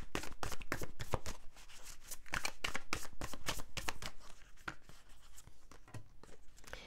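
Tarot cards shuffled and handled up close, with rapid crisp riffling and flicking slaps in quick irregular bursts, quiet and continuous, with no voices.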